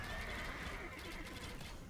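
A horse whinnies in the Age of Empires strategy game, a bright wavering neigh that fills the short moment over a dense wash of battle noise, with no talking.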